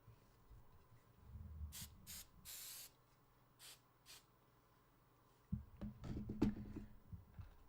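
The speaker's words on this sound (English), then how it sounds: "I think that texture spray is actually really helping." Texture hairspray comes out in several short hissing spray bursts, one longer than the rest, with quiet handling and rustling noises between and after them.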